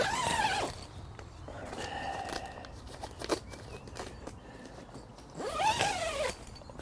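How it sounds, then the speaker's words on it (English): TF Gear Airflo bivvy door zip pulled close at hand, two quick rising zipping strokes at the start and near the end, with soft fabric rustling and handling in between. "that zips back down."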